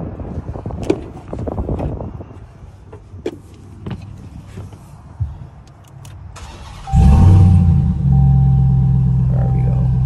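Inside a Ram TRX, clicks and small cabin noises lead to an engine start about two-thirds through, the starter catching into a loud, deep rumbling idle that holds steady to the end.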